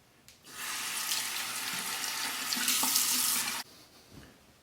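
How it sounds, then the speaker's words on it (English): Bathroom tap running steadily into a sink while the face is rinsed after shaving, a single continuous close stream lasting several seconds that stops abruptly. "then rinse it off"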